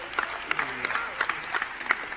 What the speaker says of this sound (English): Very awkward clapping there for him